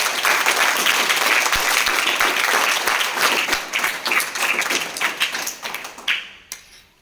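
A classroom full of people claps loudly and steadily, the applause thinning into scattered claps before fading out.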